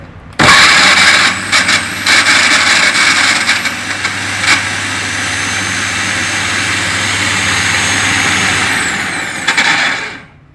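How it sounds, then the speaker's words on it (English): A mixie blender whirs loudly and steadily for about eight seconds, mixing chilled mango with cold milk for kulfi, starting abruptly and spinning down at the end, with no voices. "Now we'll blend it all well together."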